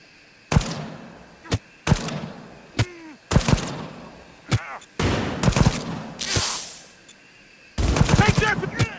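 Gunfire in the video game Cyberpunk 2077: sharp single shots and short bursts that turn into a heavier fusillade, loud and close, with brief gaps between volleys.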